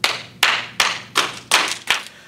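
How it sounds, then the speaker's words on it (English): Five sharp hand claps at a steady, unhurried pace, each a crisp broadband burst with a short decay, fairly close and clear with no talking. "So, start clapping your hands at home"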